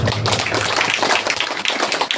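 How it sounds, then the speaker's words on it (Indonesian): Students are applauded by the audience at a Class XII farewell ceremony for SMA Negeri Pemana in Sikka, after a record-setting mass dance. The clapping is dense and loud and fills the whole stretch without pause. "Tepuk tangan untuk anak-anak kita."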